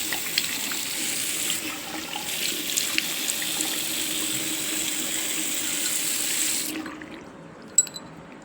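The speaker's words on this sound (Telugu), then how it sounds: "ఫేస్ వాష్ అయితే చేసుకోవడానికి వచ్చాను" Steady water runs from a bathroom tap while someone washes their face, a close hissing stream that stops abruptly near the end, followed by a faint drip or clink.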